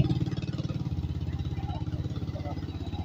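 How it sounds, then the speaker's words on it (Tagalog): A borrowed motorcycle idling nearby with a steady, rapid pulsing putter at moderate volume, continuous and unchanging over a few seconds. "Ayun, motor ni Master Dan."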